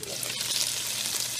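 Chicken tenders pan frying in a skillet give off a steady, close hissing sizzle, continuous and even throughout with no talk.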